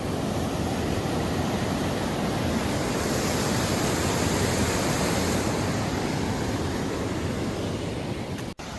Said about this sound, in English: We wanted to make our way down below the dam to get a nice view of the rushing waters